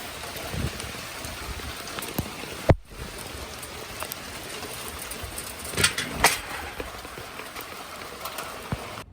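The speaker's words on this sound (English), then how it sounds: "These raindrops are huge, and it just starts pouring down rain on me in a minute." Heavy rain pours down with large drops beside a fence and young arborvitae trees, a dense steady hiss with scattered close, sharp drop impacts throughout.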